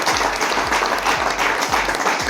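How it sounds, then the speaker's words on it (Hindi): A crowd at an addiction-recovery gathering claps loudly and continuously for a recovering addict, a thick close burst of applause with no break. "उनके लिए ताली बजाओ"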